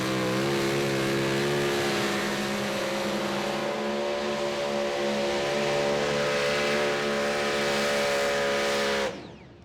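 A super stock pulling tractor roars at a tractor pull, its engine holding a loud, sustained, heavily harmonic drone near the listener before cutting off abruptly at the end.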